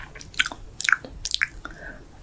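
Close, wet biting and chewing mouth sounds from an eating roleplay, a few distinct soft crunches and squishes in an irregular rhythm, quiet and intimate with no talking.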